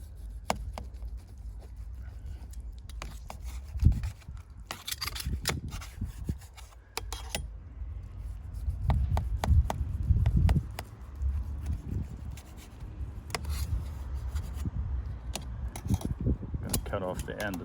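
A knife cuts through a grilled salsiccia fatty filled with melted cheese and pickled pepperoncini: soft scraping, rubbing and sawing strokes with occasional clicks and knocks against a board, steady and close over about eighteen seconds.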